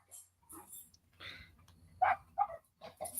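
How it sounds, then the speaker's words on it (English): A dog barking outdoors, a few short muffled barks and yips at middling distance, irregular and somewhat faint, heard alone without speech. "there's somebody else's dog outside barking."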